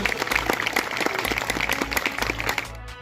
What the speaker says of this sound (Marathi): सर्वांनी टाळ्या एक वेळेस सर्वांनी टाळ्यांचा स्वागत करावं